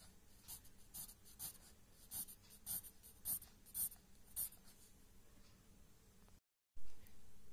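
Pencil shading strokes on paper while filling in part of a fraction figure, a steady series of soft scratchy scribbles repeating in quick rhythmic bursts, close and alone.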